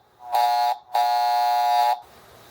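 A Marx toy train diesel horn from an Oak Park Station set blares during a repair test in two electric buzzing blasts, a short one and then a longer one, loud and close with no talking.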